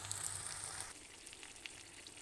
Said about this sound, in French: Après y avoir bien fait suer mes oignons, j'y rajoute donc mes poivrons.